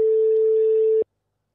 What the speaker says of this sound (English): Now, this is an international dialing tone.